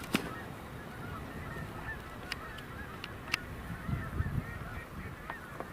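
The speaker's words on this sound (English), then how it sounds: "We're seeing Canada geese" Canada geese honk at a distance, scattered faint calls over a steady outdoor background hum, with no talking.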